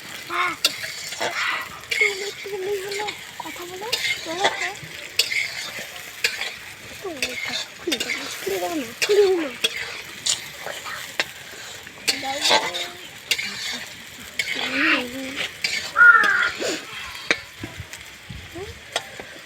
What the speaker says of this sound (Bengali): পেঁয়াজগুলোকে লাল লাল করে ভেজে নেব থাকো পেঁয়াজটা ভাজা হতে থাকছে